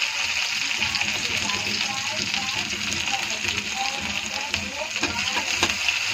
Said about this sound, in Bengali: তেলটা গরম হয়ে গেছে, এখন আমি কাঁচা লঙ্কাটা ছেড়ে দেবো।